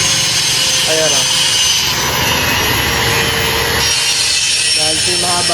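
A long bolt being cut with a tool, a loud continuous grinding, rasping noise that persists without pause, harsh and close, with brief higher tonal squeals mixed in.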